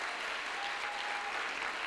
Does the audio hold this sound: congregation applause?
yes